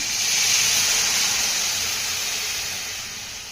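A bowl of sour buttermilk poured over a hot tempering for bitter gourd curry on a high flame: a loud, steady steam-like sizzle hiss that holds, then slowly eases over a few seconds.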